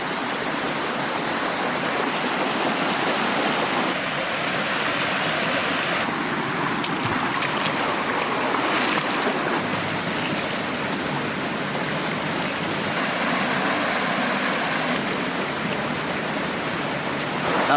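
A river in the Derbyshire countryside rushes and babbles steadily close by, a continuous broadband wash of flowing water with no voices over it.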